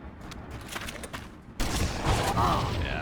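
Halo 2 multiplayer gunfire and rocket explosions: a scatter of distant shots gives way to a loud, sustained blast-heavy roar of combat in the second half.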